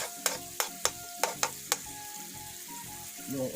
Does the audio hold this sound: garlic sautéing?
yes